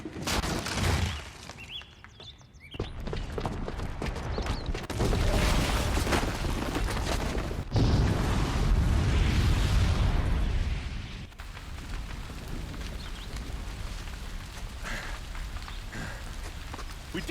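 Bomb explosion in Horizon Zero Dawn, heard as a long loud roaring blast with crackling debris and heavy low rumble that swells, surges again midway, then settles into a sustained churning roar.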